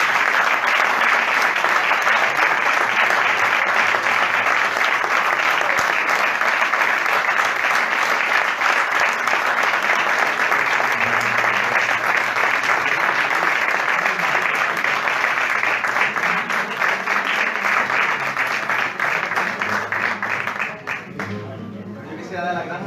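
A large audience applauds at the close of a public interview, with sustained dense clapping that holds steady for a long stretch, then tapers off at the very end.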